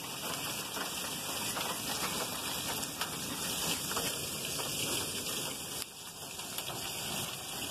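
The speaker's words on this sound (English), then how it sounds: "See, it rained so fast and so hard." Heavy rain pours down steadily in a thunderstorm, a dense, loud, continuous hiss of drops hammering surfaces close by, unbroken for the whole stretch with no voices.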